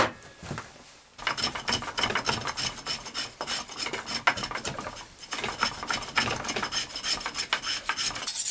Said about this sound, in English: Been using the dreaded belt sander.